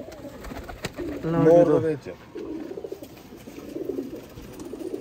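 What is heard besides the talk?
Sialkoti pigeons cooing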